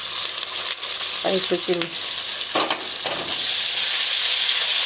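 Spice paste of ground ginger, cumin, coriander and green chilli frying with browned onions in a pan gives a steady, bright sizzle throughout, with a short spoken remark briefly on top.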